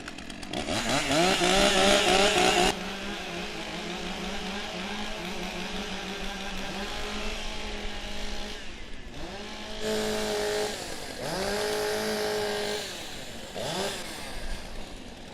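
Several stock chainsaws warm up at a STIHL Timbersports professional championship in New Zealand, engines revving up and down in overlapping waves of high buzzing, with loud bursts and falling idles, close by and without voices.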